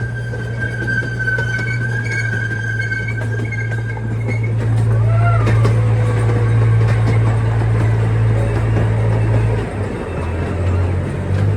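A zoo train rumbles steadily along the tracks with a low droning engine, squealing wheels and clanking, the sound swelling and echoing as it passes through a tunnel.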